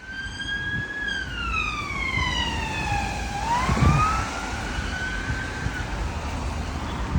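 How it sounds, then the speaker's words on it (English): Wailing siren of an unmarked police car passing on a street in Canterbury, Kent, rising and falling in long sweeps, moderately loud over steady outdoor background noise. "Unmarked police car."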